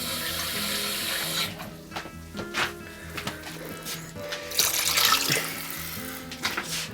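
Tap water runs steadily into a pot while a rich Polish winter soup made from a dry soup mix cooks, a continuous close splashing and gushing stream with occasional knocks of the pot.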